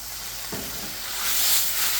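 Hot pan deglazed with Sauvignon Blanc wine for a shrimp dish, a soft hissing sizzle with a brief splash as the wine hits, building into a steady steamy hiss.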